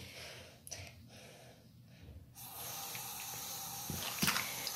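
Tap water running into a sink while a reborn doll gets a bath, a soft trickle that opens into a steady, louder splashing stream midway, with a few brief clatters near the end.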